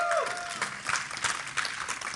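Crowd at a live esports tournament event in Atlantic City clapping and cheering, a steady wash of applause with scattered shouts, fairly close and sustained throughout.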